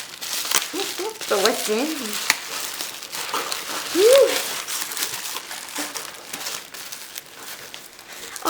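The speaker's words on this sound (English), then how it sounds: "Bubble wrap." Bubble wrap crinkles and rustles steadily as happy mail is unwrapped, close by, while a voice speaks briefly over it.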